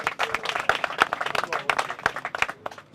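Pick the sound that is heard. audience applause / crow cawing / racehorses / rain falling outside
audience applause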